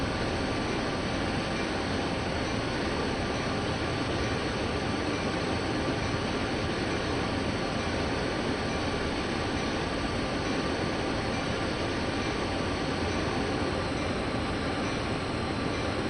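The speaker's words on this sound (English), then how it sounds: "the dynamic brakes are doing its business. It's just slowing the train ever so gradually." A long freight train slows gradually on dynamic brakes in Train Sim World 2 on the Sherman Hill route: a steady, even rumble and hiss runs unbroken, with no speech.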